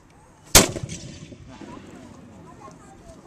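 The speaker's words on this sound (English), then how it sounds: "He then starts to reload this next one while his father keeps firing." A period firearm fires once with a loud, sharp blast during a Renaissance army reenactment, followed by a rolling echo and decay under a low murmur of background voices.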